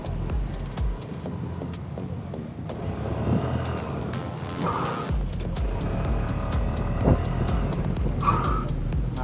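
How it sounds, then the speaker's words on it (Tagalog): A Suzuki Access scooter brakes hard and its tires squeal and skid during a test ride. A loud, rough scraping runs nearly continuously, with engine noise underneath. "Subukan natin ang kanyang preno."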